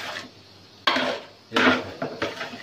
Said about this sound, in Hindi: देखिए, ऐसे भूनते रहें इसको